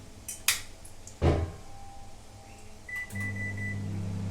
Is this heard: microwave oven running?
yes